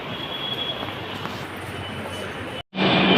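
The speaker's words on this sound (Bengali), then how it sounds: "এই মেট্রো যাচ্ছে, দেখো।" A metro train runs on rails with a steady rumbling roar and a high whine, broken by a sudden brief cutout before the noise returns.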